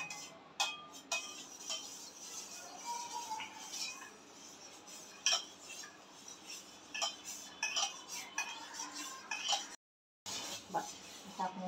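A spoon stirs buttermilk candy mixture with a pinch of salt in a pot, giving faint, close clinks and scrapes in irregular bursts, with a brief silent gap near the end.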